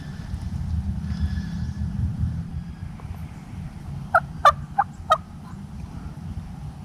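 Wild turkey gobbler in the woods of public land in Mississippi late in the evening near fly-up time, with a quick burst of four sharp calls after a quiet stretch of low rumbling background.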